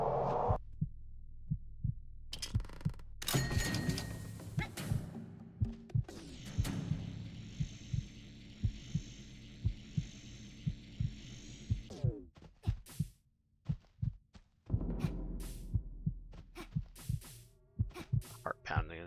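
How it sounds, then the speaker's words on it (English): Heartbeat sound effect in the Supraland video game, a steady low pulsing throb repeating through the stretch amid other game sounds and occasional noises. "Heart pounding is driving me nuts."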